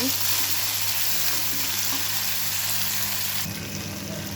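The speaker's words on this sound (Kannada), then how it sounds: "ಹಾಕ್ಕೊಂಡು ಇದನ್ನು ಅಷ್ಟೇ ಸ್ವಲ್ಪ ಫ್ರೈ ಮಾಡೋಣ." A medium-size tomato frying in oil for a bitter gourd gravy produces a loud, even, continuous sizzle that drops slightly in intensity near the end.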